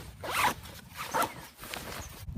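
A zipper on the top pocket of a Jansport Carson 80 backpacking backpack being pulled open in three short, scratchy strokes with brief pauses between, close and fairly quiet.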